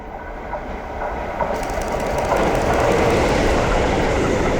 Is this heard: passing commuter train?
yes